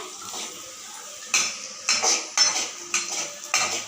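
Onions tempered in oil with mustard seeds, stirred in a pan for tomato chutney: a run of sharp metal scrapes and clinks of a utensil against the pan, roughly every half second, over a faint background sizzle.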